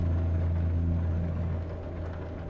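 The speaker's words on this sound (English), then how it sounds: "Hopefully you're hearing that kitty cat purr just fine," Caterpillar C15 diesel truck engine in the game American Truck Simulator, a steady low droning hum idling or cruising close up, alone and fairly faint, easing slightly toward the end.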